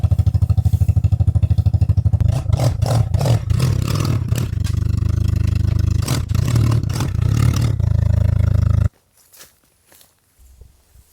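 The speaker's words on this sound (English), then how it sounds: "we're going to run the four-wheeler right here and run a line up to it" A four-wheeler ATV engine runs steadily close by at an off-grid cabin, with rhythmic clattering and scraping over the drone, before cutting off abruptly near the end into near silence.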